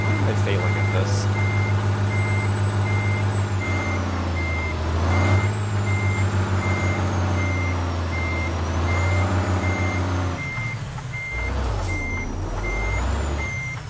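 Reversing beeps from a 2022 Freightliner Cascadia truck in American Truck Simulator, a steady evenly spaced electronic beep repeating over a low idling engine drone, with occasional air hiss and a brief break near the end.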